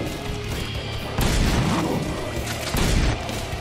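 A shotgun firing in Splatterhouse (2010), heavy booming blasts over a noisy combat din, the louder blasts arriving roughly two seconds apart, close and forceful.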